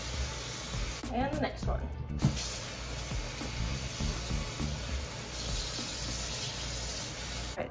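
Water sprays in a steady hiss, rinsing soap off spray-painted serving trays, loud and continuous throughout, with a person briefly speaking over it early on.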